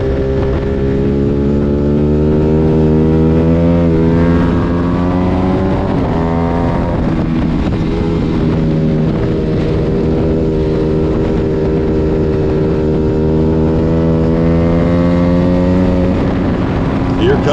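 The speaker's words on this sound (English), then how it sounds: "with Mark 10 just 2 bike lengths adrift of Crabtree's tail section as they disappear out of sight over to turn number 6 and 7" Racing motorcycles on a track make a loud, continuous engine scream that rises and falls in pitch as they pass and shift, with announcer commentary blended in underneath.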